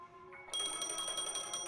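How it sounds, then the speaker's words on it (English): A phone rings in the video game Honkai: Star Rail, starting abruptly with a bright, steady electronic trilling tone that continues loud and close. "A phone."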